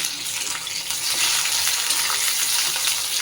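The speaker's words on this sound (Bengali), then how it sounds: "এখানে আগের থেকে ডাঁটাটাকে ভেজে নিয়েছি আর আলুটাকে ভাজছি" Potatoes fry in a pan alongside previously fried stalks, a bright continuous sizzle that swells louder after the first second and stays steady and close, with no talking.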